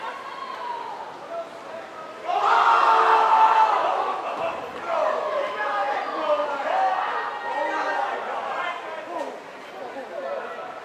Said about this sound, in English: You can hear the crowd getting excited during the girls' relay.